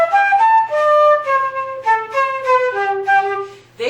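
A flute played with an unclear, airy tone, moving through a short descending run of detached notes, close and fairly loud.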